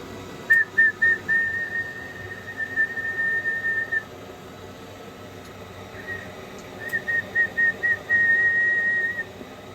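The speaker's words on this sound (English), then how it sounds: "I found a whistle actually does sustain the VOX and the power output quite well." A person whistles a steady high note into a microphone in two runs, the first broken into short stuttering pulses, close and clear with a pause between, keying a Collins KWS-1 radio transmitter on VOX.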